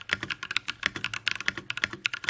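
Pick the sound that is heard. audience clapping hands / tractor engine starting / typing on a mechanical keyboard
typing on a mechanical keyboard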